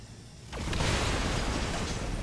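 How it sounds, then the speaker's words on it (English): An explosion in the video game XCOM 2 hits after a brief quiet lead-in, becoming a sudden loud broadband blast that settles into a sustained rumbling roar. "Oh god, that explosion damage."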